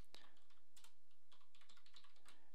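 Typing on a computer keyboard in Blender, a quick irregular run of close, crisp key clicks and taps across a few seconds with no talking.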